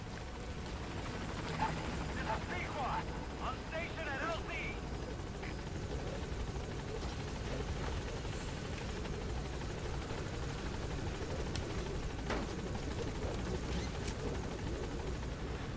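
A helicopter in the video game Metal Gear Solid V thrums continuously at steady volume throughout, with game voices and a dog's barks over it.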